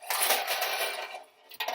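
Small metal sewing clips rattle and clink inside a tin can, a brief close jangle that fades, then a short final clatter.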